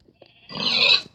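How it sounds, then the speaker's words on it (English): A pig in Minecraft gives a single grunting oink near a village, loud and close, with a few soft clicks before it and nothing else around it. "And looking at this village, maybe grabbing this pig."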